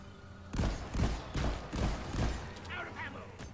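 Engineer turrets firing in the Deep Rock Galactic video game, a run of about six loud, punchy shots at a steady rhythm, close by, with a voice speaking briefly near the end.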